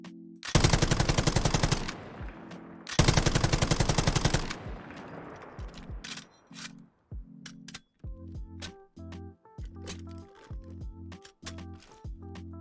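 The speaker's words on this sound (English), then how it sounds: "I'm a huge fan of belt-fed LMGs, and I think this is a great weapon to pair with power armor" Belt-fed light machine gun firing in Fallout 4, two loud sustained bursts of rapid automatic fire, followed by clinking, clicking and metallic handling noises of a reload animation.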